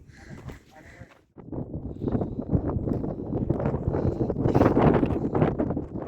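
Strong coastal wind at Naila lagoon on Morocco's southern Atlantic coast buffets the microphone with loud, gusting rumbles, preceded by a brief moment of quieter background sound.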